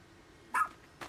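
Oachi, a rescue pup in Pikmin 4, gives two short, sharp barks about half a second apart, clear and close against a quiet game background.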